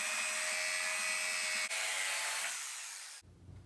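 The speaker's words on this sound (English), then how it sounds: "jigsaw." A jigsaw cutting through wood for a miter saw stand upgrade, a loud, steady buzzing whine that runs continuously, then winds down and cuts off near the end.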